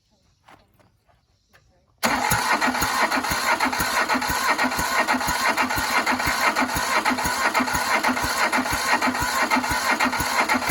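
A Mitsubishi S370 tractor diesel engine under restoration cranks and runs loud and close after a quiet opening with brief talk, then holds a steady rhythmic chugging for the rest.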